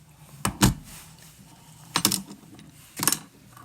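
A screw and saw blade are taken off a Leatherman Charge multitool, giving three short, sharp metallic clicks and scrapes, close up, separated by quiet pauses.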